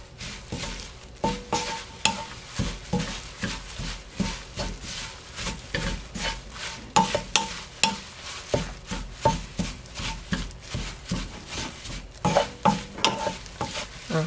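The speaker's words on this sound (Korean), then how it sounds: "전체적으로 한참 좀 볶아주겠습니다" Old seaweed sheets stir-fried in cooking oil over low heat for gim jaban, rhythmic repeated scraping and tossing strokes against the pan over a gentle crackling sizzle, close and continuous, no talking.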